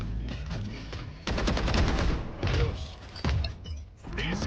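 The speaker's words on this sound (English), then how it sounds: "All missiles away." Tejo's missile strike in the tactical shooter Valorant, a dense run of booming impacts and rapid gunfire-like blasts in several loud bursts, close and continuous.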